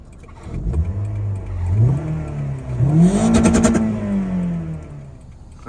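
A remapped Toyota Altis 1.8 engine revs up twice inside the car, climbing in pitch, dropping back, then rising again to a held, strained note before easing off.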